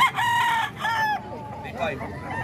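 A rooster for sale in Tondo gives two strong, close crows in quick succession, each a stretched harmonic call, followed by fainter trailing calls and a murmur of background noise.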